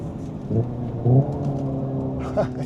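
Simulated engine sound from a 2025 Hyundai IONIQ 5 N, a low synthetic engine hum with a few short rev blips on downshifts, heard from inside the cabin with some talking mixed in.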